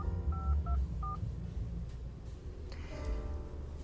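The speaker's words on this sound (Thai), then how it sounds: "กดเบอร์โทรที่หน้าจอแบบนี้ได้นะครับ" A few short touch-tone dialing beeps from a phone keypad on an Apple CarPlay screen linked to an iPhone SE, quick and moderately faint over a low background hum, with no talking.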